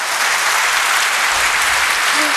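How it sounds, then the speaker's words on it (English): An audience applauds whistleblowers who exposed corruption at a public talk, a steady dense wash of clapping filling the whole stretch with no pauses. "I think we actually need to applaud them and give them a clap"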